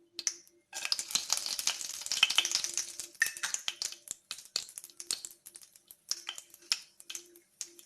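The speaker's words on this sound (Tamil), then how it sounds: "லைட்டாக பொரியட்டுங்க." Whole cardamom, a small piece of cinnamon and four cloves fry in hot oil, giving a dense crackling sizzle broken by sharp pops and spits, close and steady for most of the time with brief quieter gaps.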